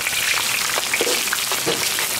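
Ginger and garlic frying in a wok of lard and vegetable oil, a steady crackling sizzle with small pops, close and fairly loud, with no voices.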